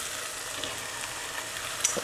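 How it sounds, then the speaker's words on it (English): Onions frying in a pan alongside stew meat for a Guinness and steak stew, a steady close hiss and sizzle with faint crackles and pops throughout, no voices. "The onions are frying in there lovely jubbly."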